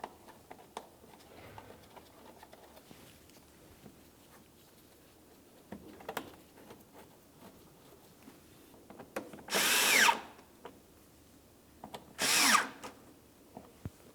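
A power drill drives the fender liner mounting screws on a 2010-2013 Ford Transit Connect in two short, whirring bursts against a quiet background of faint clicks and handling noises.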